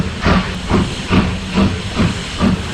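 The Hudson Clark steam locomotive on an industrial railway in southern England hisses steam loudly and steadily. Rhythmic chuffs pulse about twice a second as it heads back to the shed.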